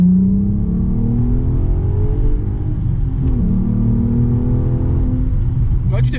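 A Volkswagen Golf 5 R32 with camouflage wheels accelerating, a loud steady engine drone rising in pitch from inside the car, with a brief shift and a voice talking under it.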